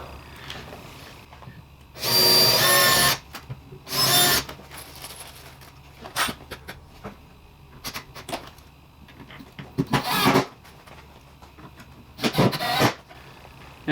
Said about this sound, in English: Drill a pilot hole, it's easier to start.